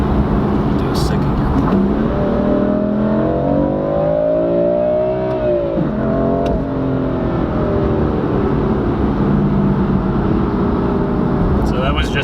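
A BMW M4 with a bootmode tune, around 410 horsepower, pulls hard through second gear, shifts with a brief dip, then keeps climbing in third. A loud, close engine note rises steadily on its own.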